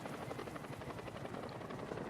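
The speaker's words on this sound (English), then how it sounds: "I'm about to get killed by this helicopter." A helicopter attacks the player in a Batman video game, its loud, steady rotor chop thumping in fast rhythm throughout.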